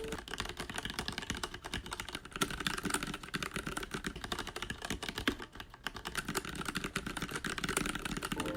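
Someone types fast and without pause on a mechanical keyboard with Gateron yellow switches. The close, dense key clatter runs steadily throughout.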